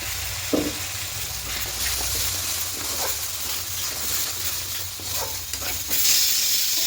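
Chana masala sautéing in a pan, with a steady close sizzle and spatula scrapes and stirs scattered throughout, plus a brighter burst of frying near the end.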